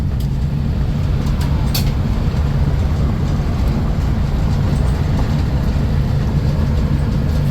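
A 1991 Dodge Grand Caravan minivan fitted with a replacement transmission drives on the road, a continuous loud low rumble of engine and road noise heard from inside, with faint ticks and rattles and no talking.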